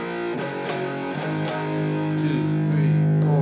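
Distorted electric guitar plays the chorus riff of an AOR rock song, with steady sustained chords and rhythmic picked accents, loud and close with no voices.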